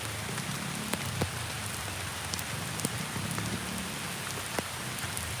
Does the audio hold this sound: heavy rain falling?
yes